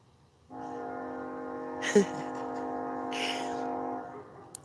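A train's bell sounds a sustained, ringing tonal signal steadily for several seconds outdoors at night, with a couple of brief clanks and noises over it, heard at moderate distance.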